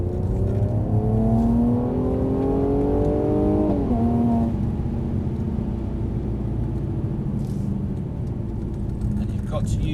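A Mercedes-Benz car accelerates on a driving track, its engine note climbing steadily, dropping abruptly near four seconds, then settling into a loud, steady rumble, with a voice talking over it.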